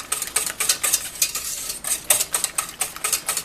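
A whisk clinks and scrapes rapidly against a pot, stirring cinnamon into brown rice pudding in a steady, close rhythm of metallic taps with no voices.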